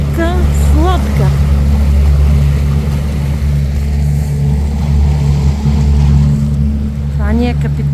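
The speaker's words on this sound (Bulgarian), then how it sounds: "Разходка с лодка." A motorboat carries passengers out to St. Ivan island, its engine holding a steady, loud, close drone throughout while voices sound faintly over it.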